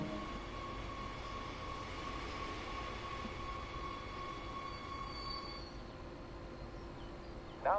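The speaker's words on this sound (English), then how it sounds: "let's bring the train to a halt" An electric train in the Train Sim World 2020 video game brakes to a halt with a steady rolling rumble and tonal motor whine, then a brief squeal right at the stop.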